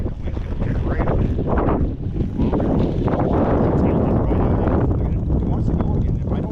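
Strong wind buffets the microphone at an RC plane flying field, a loud continuous roaring rumble with gusty surges throughout.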